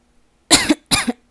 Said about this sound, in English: I was just really coughing